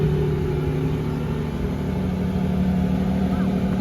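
Hypercars roll out from a castle after a billionaire's mansion party, their engines holding a steady, close, low idle-to-cruise drone with a faint rev. Talk carries on over the motors throughout.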